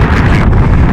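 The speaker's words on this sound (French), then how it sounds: "Vous voyez, il y a beaucoup de vent." Steady wind buffeting a microphone in an open meadow during metal detecting, a continuous low rumble that fills the whole second without letup.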